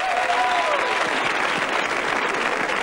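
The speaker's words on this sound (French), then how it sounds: "Toujours avec Annie, que je vous demande d'applaudir, mesdames et messieurs." Loud, steady applause from a large French TV studio audience fills the whole moment, dense clapping with a faint voice briefly audible underneath.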